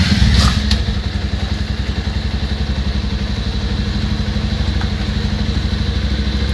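A scooter engine running close by with a steady rapid puttering chug, a brief louder rev and clatter at the start before settling into an even throb, no voices.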